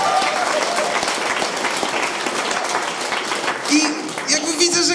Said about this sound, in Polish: Brawa dla Antka, naprawdę